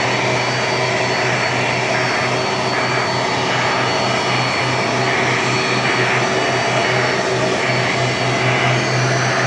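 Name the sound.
Finnair airliner taxiing at Sydney Airport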